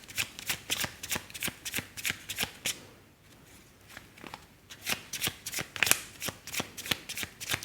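Tarot cards riffled and shuffled in quick, crisp bursts of rhythmic slaps and flutters, close and clear, pausing briefly midway before resuming, with no talking over them.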